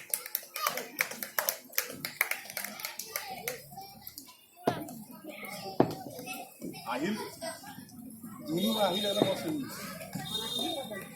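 An audience at a play school annual day gives scattered, sharp claps that thin out over the opening seconds, followed by a stretch of talking and other noise, with people speaking throughout.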